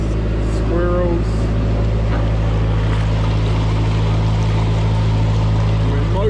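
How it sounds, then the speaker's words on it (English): Narrowboat motoring steadily across an aqueduct in North Wales on a calm, sunny winter day, with a constant low engine drone throughout, close and loud, and faint voices and water sounds in the background. "We're motoring along, heading towards Elsmere."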